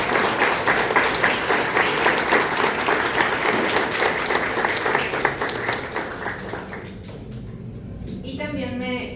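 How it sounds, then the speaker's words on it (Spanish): An audience at a university law faculty panel applauds, full and steady clapping for around seven seconds that thins out and stops, followed by a voice speaking over a microphone. "Vamos a darle un aplauso"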